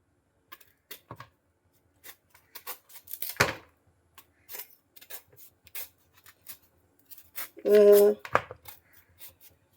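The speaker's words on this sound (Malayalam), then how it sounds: "ഇതിൻ്റെ മുള്ളൊക്കെ ചെത്തി കളയട്ടെ ഞാൻ" A knife scrapes the thorny skin off taro stalks in short, scratchy strokes, sparse and close at first, then with heavier scraping bursts and a brief tonal rasp near the end.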